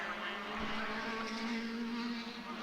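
Formula BOSS single-seater race cars lapping a twisty section of an Irish circuit, a steady high-pitched engine whine that holds fairly constant and loud throughout, with wind noise underneath.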